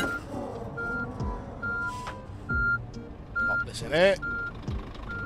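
Truck reversing alarm in the On The Road Truck Simulator game, a regular string of short high electronic beeps repeating steadily under engine hum while someone talks over it.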